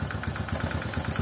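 Motorcycle engine revving with a steady, rapid ticking from valve clearance, the regular tek-tek pulses repeating evenly over a mid-pitched engine drone, close and continuous.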